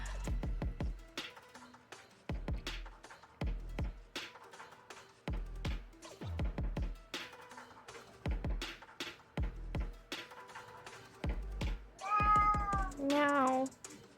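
A house cat meows over and over in short, close, fairly quiet calls at an uneven pace, with a longer wavering meow near the end and faint room noise between calls.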